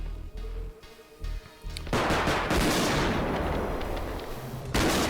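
A few sharp gunshots ring out in a realistic shooter video game, followed by dense crackling fire and rumbling reports that stay loud to the end.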